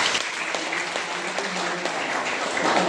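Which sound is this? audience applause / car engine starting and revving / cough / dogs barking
audience applause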